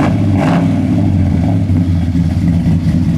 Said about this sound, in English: Sounds like a big block making all that noise.